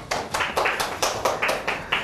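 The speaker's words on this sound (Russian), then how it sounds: "Аплодисменты" About nine crisp hand claps in an even, quick rhythm from a small group during a Tatar cooking session, close and clear with no talking over them.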